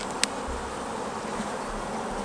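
A honeybee colony hums steadily during a hive inspection after being split and its chalkbrood-affected old queen removed. The buzzing is a continuous, fairly soft drone with one brief click near the start, and no voices.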